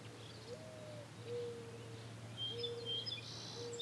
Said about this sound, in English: Got an owl hooting back there somewhere.